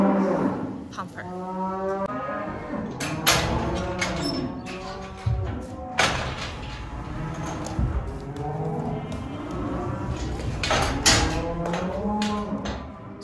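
Cattle in a shed before calving moo repeatedly, several long, loud, drawn-out calls at close range with shorter gaps between them, plus some knocking and shuffling and faint talk in the background.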